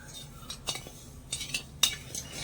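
Metal spoon stirring cardamom-spiced sugar syrup in a pan, with a few soft scrapes and light clinks against the metal, quiet and close, no talking.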